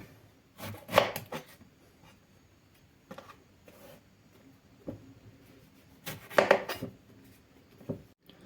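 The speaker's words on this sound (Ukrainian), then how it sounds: "І нарізаю баклажани, буду нарізати їх смужками." A knife slicing eggplant into strips on a cutting board, two longer rasping cuts separated by a few lighter taps, close and clear without speech.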